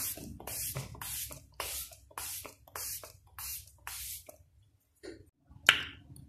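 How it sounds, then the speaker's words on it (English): Repeated short hissing sprays from a bottle of makeup setting spray, about eight quick bursts in a steady rhythm, close, followed by a pause and one final spritz. "some setting spray."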